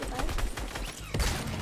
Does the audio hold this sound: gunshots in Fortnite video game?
yes